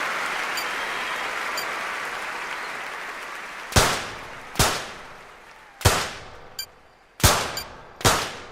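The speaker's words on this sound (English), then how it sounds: "Well, not the best shooting in round number 3" Six sharp, close gunshots crack out at uneven intervals in a London 2012 Olympic shooting event video game, each ending in a short ringing decay, after a few seconds of quiet crowd hum.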